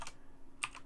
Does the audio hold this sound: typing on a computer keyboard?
yes